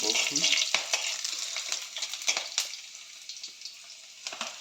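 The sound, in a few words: boiled food being fried and stirred in a pan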